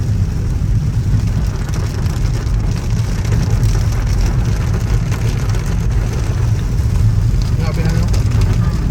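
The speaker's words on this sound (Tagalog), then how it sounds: "Kasi ito normal na ulan" Heavy rain pours steadily in a dense, continuous roar with low rumbling underneath, loud and unbroken.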